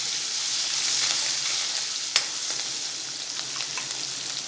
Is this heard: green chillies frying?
yes